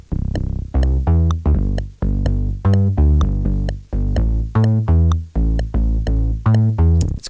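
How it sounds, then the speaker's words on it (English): Layered synth bass for a French house track pumps in short, punchy notes with a steady rhythmic ducking, heavy in the low end and loud, with no other sounds. "I made this really cool bass with these 2 layers"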